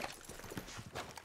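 Horse hooves clip-clop in a steady walking rhythm in the Western video game Red Dead Redemption 2, close and moderately loud over a dense background of game ambience, with no talk in the brief stretch.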